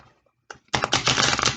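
A deck of cards is shuffled close by, a short riffling burst of crisp flutter after a couple of faint taps.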